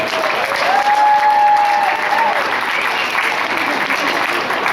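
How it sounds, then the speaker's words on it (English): Crowd at an amateur cupcake baking challenge fundraiser applauding the participants, a sustained, even wash of clapping that holds throughout, with some voices mixed in. "Give all of our participants a round of applause for working so hard today."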